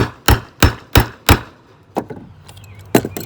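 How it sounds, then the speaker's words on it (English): A hammer strikes a socket ratchet set on a metal base to condition primer pockets in shotgun hulls, with several sharp, loud, evenly spaced blows followed by a few softer knocks and clatter. "hit that with a hammer"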